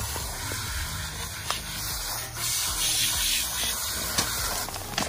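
A spray bottle hisses in a few short, close bursts, with faint rustling between them.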